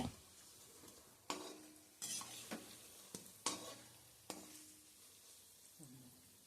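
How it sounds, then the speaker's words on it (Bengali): Quiet frying hiss of cabbage pakoras in hot oil, with several sharp clinks and scrapes of a utensil against a pan, spaced irregularly, close by. "এরপর আমি পকোড়াগুলোকে তেলের মধ্যে এপিট ওপিট উল্টে পাল্টে ভালো মতো লাল করে ভেজে নিতে হবে"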